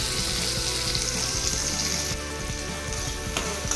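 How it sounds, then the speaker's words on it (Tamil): Garlic and small shallots sizzle steadily in a hot pan of oil, a continuous bright frying crackle with faint stirring, close and alone with no talk. "அடுத்து வந்து சின்ன வெங்காயமும் சேர்த்து நல்லா வதக்கிக்கலாம்"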